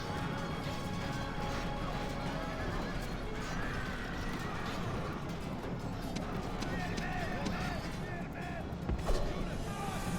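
Horses gallop and neigh in a battle scene from a video game, with horse archers in the fight. Hooves drum steadily and whinnies rise over a dense wash of battle noise, and voices talk throughout.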